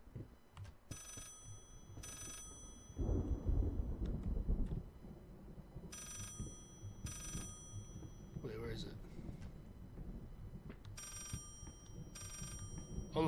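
An old-style telephone bell rings in repeated regular bursts inside the horror game Layers of Fear, set against a dark, rumbling ambience, with someone talking over parts of it.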